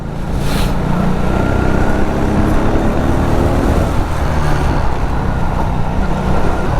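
A Fekon Victorino 250i V-twin motorcycle accelerates gradually, its engine a loud, continuous rumbling drone mixed with rushing wind noise and no voices.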